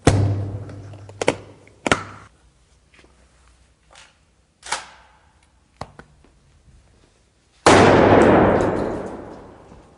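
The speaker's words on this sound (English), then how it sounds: "see what he can do with his 12-gauge shotgun" A 12-gauge shotgun fires at a hard Pelican case, giving several sharp, loud blasts and thuds spaced irregularly, with a final long booming report that slowly decays.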